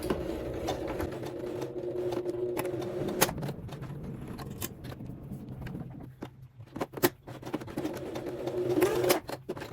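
A domestic sewing machine bastes the ends of fabric pieces for a misses' jumpsuit, its motor humming in steady stitching runs broken by short pauses and small clicks, close and moderately loud.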